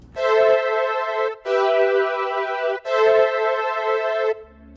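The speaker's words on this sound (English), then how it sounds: "Nice little synthy string sound." Three sustained synth string lead notes, bright and harmonically rich, each held over a second with short gaps, played alone without any talking.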